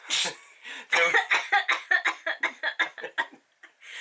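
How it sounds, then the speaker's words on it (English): A long fit of repeated coughs, a dozen or more sharp bursts in quick rhythm, close and loud, ending in a couple of softer hacks. "I still have my cough."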